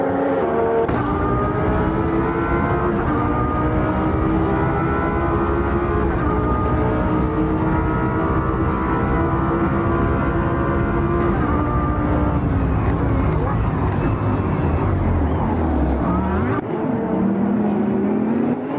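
GT3 race cars at the Red Bull Ring, a loud, continuous engine drone of a tightly packed field with layered revving tones and shifting pitch as cars pass close by.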